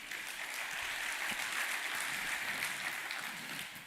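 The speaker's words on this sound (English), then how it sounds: "You can clap for that." An audience at the S4x20 security conference applauds steadily, a dense, continuous clapping from a sizable crowd that holds for several seconds at even loudness.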